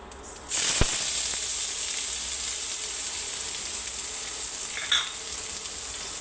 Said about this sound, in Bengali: প্রথমে আমি মাছটা কষিয়ে নিব।